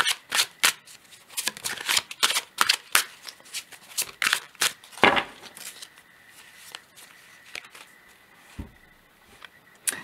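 Tarot cards are shuffled and handled during a reading, making a rapid series of crisp, papery snaps and flicks close by. The clatter thins out to quieter rustling toward the end, and no one speaks.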